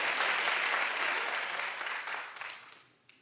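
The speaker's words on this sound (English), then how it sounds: "Clap if you have." Talk show studio audience clapping in response to a host's question, a dense burst of applause that starts full and gradually thins out, with a few scattered final claps.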